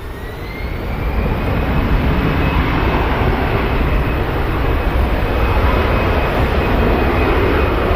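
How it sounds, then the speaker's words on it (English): A Boeing 787 Dreamliner arriving from Delhi lands at Manchester Airport, its loud, steady engine roar and rushing rumble filling the air from close range for the whole stretch. "Nice touchdown from the Dreamy in from Mumbai. Oh, sorry, Delhi."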